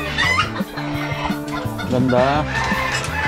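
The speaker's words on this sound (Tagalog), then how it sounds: "Cochin hen." A Cochin hen clucks repeatedly in short bursts on a farm in the Philippines, close and fairly loud, with people talking briefly over it.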